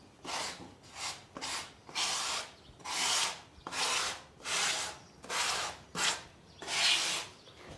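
Tile grout worked across a tiled surface with a float in a back-and-forth diagonal motion, about a dozen rhythmic scraping strokes in steady succession, close and fairly quiet, with no talking.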